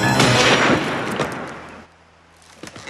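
A single loud gunshot cracks out at the start and rolls away into a fading echo over a couple of seconds, followed by a short quiet stretch and a faint clatter.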